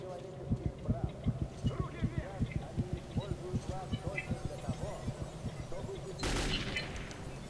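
Gunfire in the post-apocalyptic shooter Metro 2033, a steady rhythm of regular shots at moderate distance, closing with a louder burst near the end.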